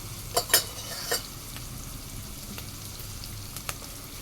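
Crushed garlic and cumin frying in a pan, giving a soft steady sizzle broken by a few sharp stirring scrapes and clinks near the start, then quieter frying with occasional light taps.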